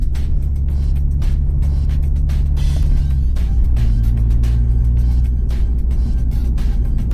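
A Toyota GR86 Yuzu Edition runs on a race track, its engine a steady loud drone whose pitch steps up midway as the car accelerates, with continuous road rumble.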